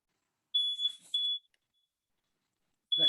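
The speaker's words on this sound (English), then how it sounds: "that's my smoke alarm" A household smoke alarm sounds two piercing high beeps in quick succession, then falls silent before a third chirp begins at the end.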